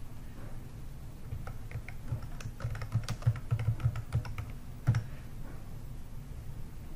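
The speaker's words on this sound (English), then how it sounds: "you're going to type in your main keyword" Keys clatter on a computer keyboard as a search keyword is entered, a close run of quick light clicks that bunches into a busier burst midway and then thins out, with no talking.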